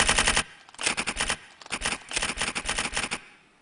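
Rapid typewriter-style key clacks from a tapping app come in dense, fast bursts separated by short pauses, crisp and close, with no talk.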